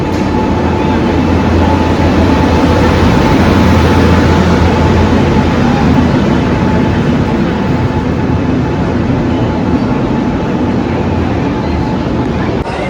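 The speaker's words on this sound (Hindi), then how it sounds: "तो ट्रेन अपनी आ चुकी है और बिल्कुल एग्जैक्ट टाइम पे है।" An Indian Railways passenger train rolls into a station platform with a loud, continuous rumble and rattle of wagons that stays steady throughout, a faint voice barely audible beneath it.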